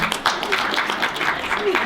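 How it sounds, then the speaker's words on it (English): Audience applause for speaker Feliza Casano at a Women Unbound event, a steady patter of many hands clapping at moderate loudness that runs throughout. "let's all give another round of applause to Feliza for coming"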